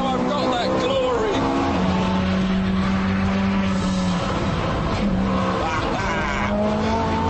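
Ferrari F430 Scuderia sliding in power oversteer, its loud engine holding a steady high roar with pitch shifts and tire squeal mixed in, continuous and close, with a brief spoken interjection over it.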